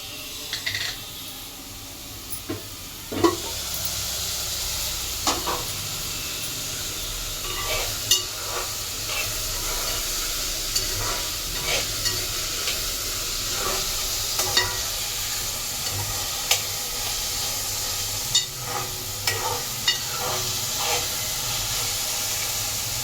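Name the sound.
onions and tomatoes cooking in a pan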